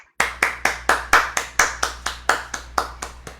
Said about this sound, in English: Just in case you don't clap, I do it for myself.